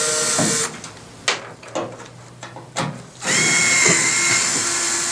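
A power drill removes screws from the tail light of a 2000 Ford, giving loud whirring bursts at the start and end with short clicks and rattles between them, heard up close.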